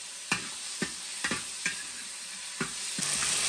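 Chicken pieces stir-fried in hot oil over high heat, a steady loud sizzle broken by about seven regular scraping stirs of a spatula against the wok, close with no talk.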